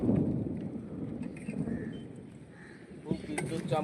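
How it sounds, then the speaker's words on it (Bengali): Thunder rumbles low and heavy during a thunderstorm, rolling steadily beneath a faint patter of rain, with a sharper crack near the end. "খুব বিদ্যুৎ চমকাচ্ছে, বাজ পড়ছে, বৃষ্টি একটু থেমেছে, বেরোলাম।"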